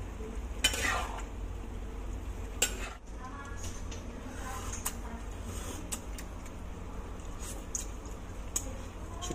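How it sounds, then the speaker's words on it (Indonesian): Capcay vegetables, seasoned with white pepper, are stirred in a frying pan: repeated scraping strokes and sharp utensil knocks over a continuous soft sizzle, close up. "Nah, kita aduk lagi."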